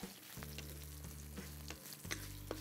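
Dried red chillies, cumin, coriander seeds, fennel, peppercorns and curry leaves roast in hot sesame oil, giving a steady close crackling sizzle with a few stirring clicks and taps against the pan.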